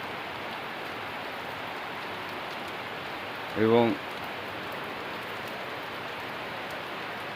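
Steady, even hiss of heavy rain falling, broad and continuous, with someone speaking a single brief word partway through.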